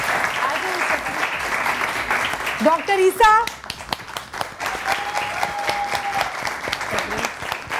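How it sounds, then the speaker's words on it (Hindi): Studio audience on a morning TV show claps to welcome experts, a burst of applause that fades under a host's talking and a short musical sting. "ज़्यादा तालियां बजाएं ना"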